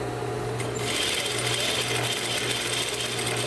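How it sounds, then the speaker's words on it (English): A sewing machine stitching a facing into a sleeveless garment runs in a steady, rapid mechanical whir with a low repeating hum, starting up after a brief pause and continuing close and uninterrupted. "you just want to sew this starting at the center so both of them have the exact same shape"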